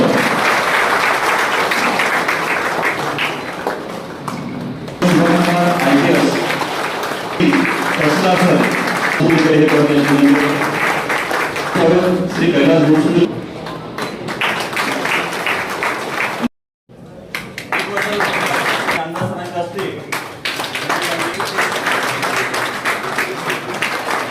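A crowd claps steadily to welcome an MLA and senior revenue and police officials at a Revenue Day ceremony in Achalpur. The broad, continuous applause runs nearly the whole time, with a voice speaking over it and a brief break partway through.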